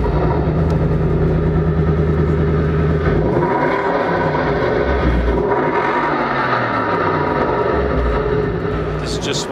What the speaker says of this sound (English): here's the video clip of it and what the car sounds like. The exhaust note of it.